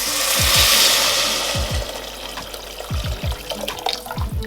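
Vegetable stock poured into a soup pot, a broad splashing rush that swells at the start and then settles into a softer, uneven trickle with small clunks, close and alone.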